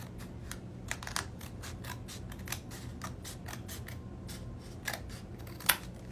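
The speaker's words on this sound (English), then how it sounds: "you can just take your scissors and just trim it right up against the pink." Repeated snips of scissors cutting paper, a steady run of short crisp clicks over faint room noise, with one sharper snip near the end.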